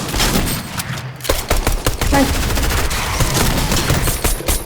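Rapid automatic gunfire in the video game Fortnite, set in a cornfield, with dense bursts of shots crackling loudly and continuously.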